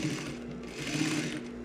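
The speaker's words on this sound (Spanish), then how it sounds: "Ya que tengo bien acomodado mi forro por la parte de atrás, comienzo a dar mi pespunte de un 16avo." Close, steady whirring of a sewing machine topstitching a bag lining at a sixteenth-inch seam allowance, with a constant hum and no voices.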